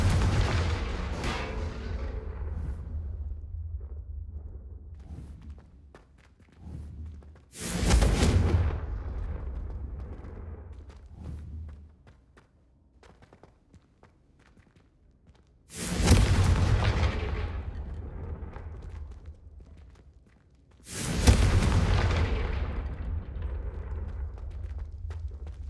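Confringo blasting spells explode in Hogwarts Legacy as four loud, sharp blasts spaced several seconds apart, each trailing into a long deep rumbling decay, with no talking.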